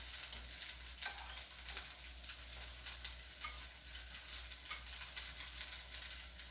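Gnocchi browning in a frying pan give a steady, soft sizzle and crackle throughout, with occasional light stirring and scraping ticks, close and with no talk.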